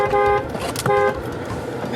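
A car pulls up and sounds its horn twice, two short, loud toots separated by a brief gap, with faint motor noise underneath.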